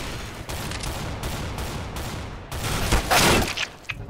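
Rapid gunfire rings out in CS:GO's Arms Race mode, a close, loud series of regularly spaced shots, followed by a brighter, denser burst of game sound near the end, with no speech.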